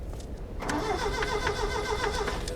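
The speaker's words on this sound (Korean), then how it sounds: "시동 거는 소리가 들리는데 그쪽으로 한번 가볼게요" A car engine in the Tomb Raider reboot game cranks over and over without catching, a steady mid-pitched starter whir with repeated pulses, fairly close and alone.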